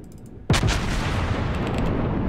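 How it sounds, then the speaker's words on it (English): Iowa-class battleship main guns fire a high-explosive salvo in World of Warships, one sudden loud boom with a heavy rolling blast that sustains and rumbles on afterward, no talking. "Here comes the high explosive salvo."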